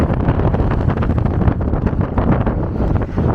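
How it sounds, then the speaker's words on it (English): Strong wind roars and buffets the microphone on the St. Croix Loop Crossing Trail near the Stillwater Lift Bridge in Minnesota in October, a loud, continuous gusting rumble with no voices. "The fucking wind is really bad."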